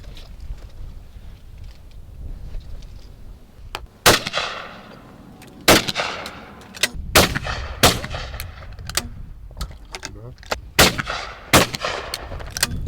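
Browning shotguns fire at grouse targets, a run of sharp outdoor reports, roughly a dozen of them, some in close pairs and others spaced apart, each ringing out over wind noise.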